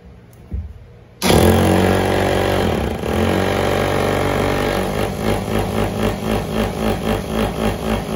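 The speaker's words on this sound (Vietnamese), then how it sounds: "Đây là đục bê tông này." A 220V three-function hammer drill in concrete chisel mode starts suddenly with a loud motor roar, then settles into a rapid, pulsing hammer rhythm that continues steadily and close up to the end.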